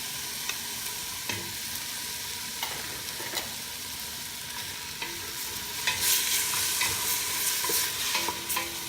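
Chopped tomatoes fry in a pan for pork pochero, giving a steady, hissing sizzle with scraping stirs at intervals, close and moderately loud, growing busier toward the end.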